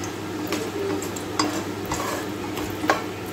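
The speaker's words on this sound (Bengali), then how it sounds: "এবার এই তেলের মধ্যে দিয়ে দেবো একটু গোটা গরম মশলা" Whole garam masala of cinnamon stick, small cardamom and cloves dropped into hot oil for egg pulao, giving a soft steady sizzle with a few light clicks and taps of a spoon against the pan, no voices.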